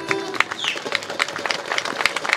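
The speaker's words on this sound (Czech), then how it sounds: "Já prosím o potlesk." Audience clapping at a banjo festival in Čáslav, a light, scattered patter of hands close by that carries steadily through the whole moment without any voices over it.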